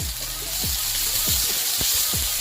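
Green chillies and tomato sautéing in hot oil for a Maggi omelet, a steady bright sizzle under a few low knocks and scrapes of stirring, close and continuous.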